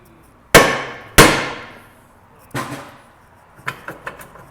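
A hammer strikes a rusted rear brake rotor on a 2005 Acura TL: two loud, ringing metallic blows, then a softer hit and a quick run of lighter taps, with no talk.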